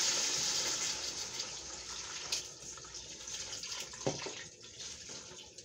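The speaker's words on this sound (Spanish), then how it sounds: "Ahora vamos a agregar el agüita" Water is poured into a pot of beef pozole with white hominy, producing a soft, continuous splashing pour that gradually tapers off, faint and close, with no talking.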